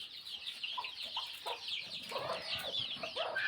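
A village hen clucks softly in a series of short, irregular calls at moderate distance, with a steady faint background hiss of outdoor ambience.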